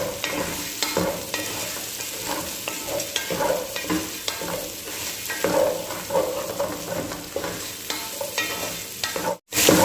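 Onions and garlic sautéing for pancit canton, a steady busy sizzle with frequent stirring scrapes throughout, close and fairly loud, cutting off briefly near the end.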